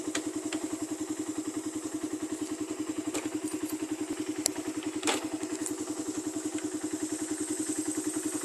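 Motorcycle engine idling with its carburetor idle being adjusted, a steady, rapid, even putter close by, with a few light clicks and taps over it.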